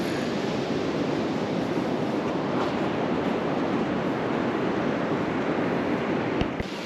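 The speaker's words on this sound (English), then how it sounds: "Waterfall." A steady, broadband roar of water from a waterfall near a wilderness ocean beach on the Olympic coast, continuous and fairly loud with no talking.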